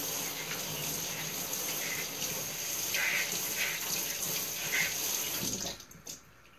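Water from a tap streams steadily over orchid leaves during a rinse, a continuous close splashing wash that cuts off abruptly near the end.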